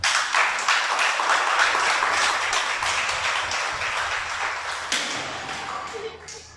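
A congregation at a Shabbat service applauding, with dense clapping that starts loud and gradually thins and fades, while a voice speaks over it.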